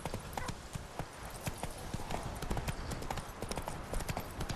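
Roach, Geralt's horse in The Witcher 3, gallops with a steady, rapid clip-clop of hooves throughout, close and continuous at moderate volume.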